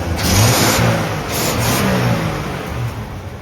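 A 1960s Ford F100 truck engine, up close and loud, running and revving in a steady rumbling drone with rises and dips in pitch.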